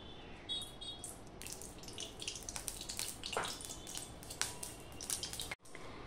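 White oil poured into a hot wok while cooking a vegetarian ridge gourd dish, giving soft, close, crackling sizzles and drip-like splashes at low volume with no talk.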